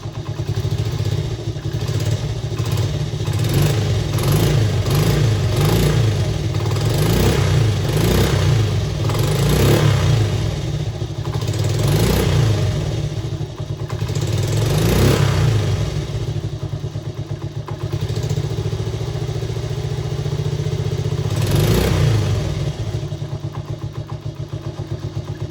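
Small Honda DAX ST50 motorcycle engine revving repeatedly with the choke fully open, each throttle blip surging then bogging down and falling back to a rough, loud idle close by, with no talking.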